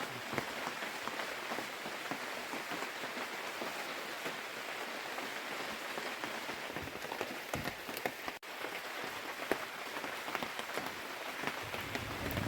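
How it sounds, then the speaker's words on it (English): Steady, continuous rain falls outdoors at a building site, a dense even hiss of drops pattering on surfaces with no let-up throughout. "We had 28 hours of continuous and steady rain."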